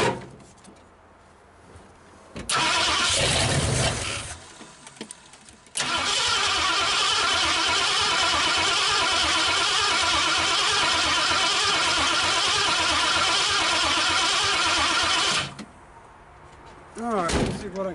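A 1959 Ford Galaxie Fairlane 500, not started in years and getting no fuel to the carburetor, cranks loudly in long sustained attempts with a short burst and pause between them, the whirring starter close by and a voice talking at the end.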